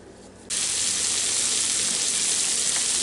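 Cube steak hits a hot pan and starts frying with a sudden, loud, steady sizzle that continues unbroken after a short quiet moment.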